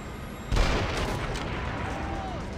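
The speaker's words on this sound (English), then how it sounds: "You'll have to hit them with a sniper round to set them off." A sniper rifle shot sets off detonators in Call of Duty: World at War on PS2, in the Relief of Bastogne battle. One sudden loud blast lands with a long rumbling tail over a steady bed of distant gunfire and battle din.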